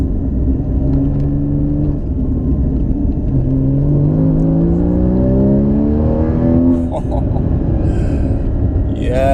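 A car drives along a road and accelerates through several gears, the engine note repeatedly climbing in pitch at close range, with a few quiet voices in the background.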